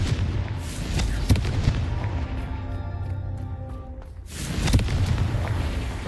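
A Confringo fire spell in Hogwarts Legacy bursts with several sharp booming blasts and crackling impacts, loud and close, a brief quieter gap, then another heavy explosion.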